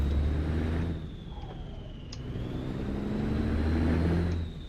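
Road traffic of cars and trucks in a truck-driving video game, a steady, close engine drone that swells and fades as vehicles pass, with a faint high whine above it.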